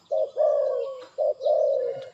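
A dove coos close by in a short rhythmic phrase, two low rounded notes each followed by a longer drawn-out coo, with no other sounds.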